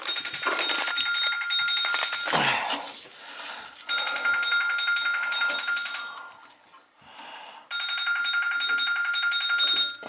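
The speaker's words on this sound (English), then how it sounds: "Phone ringing off the hook" An old-style telephone bell rings in two long bursts of steady, bright ringing separated by a quieter gap, in a room where an old gas boiler has been red-tagged by the gas company; brief rustling and faint movement fill the pauses.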